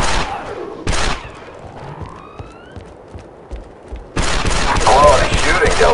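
Gunfire from the Star Wars: Republic Commando video game, with loud bursts of blaster fire opening and closing the passage around a quieter stretch of scattered shots and battle noise, while voices shout over the combat.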